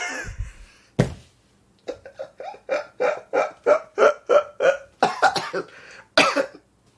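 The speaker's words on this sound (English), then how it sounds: "Oh, I'm getting hiccups." A person hiccups repeatedly, a steady series of about ten sharp, close vocal hics spaced roughly half a second apart, with a couple of louder throat sounds at the start and end.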